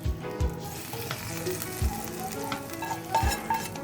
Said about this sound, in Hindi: अब हम इस पर ऐड कर रहे हैं तड़का जो हमारा रेडी हो चुका है।